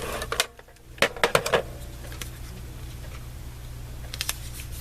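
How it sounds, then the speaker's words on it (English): A tape runner laying adhesive tape on paper while making recycled bookmarks: a few sharp close clicks and short rasping bursts in quick clusters, then quieter ticks over a low hum. "I'm gonna actually use my tape runner"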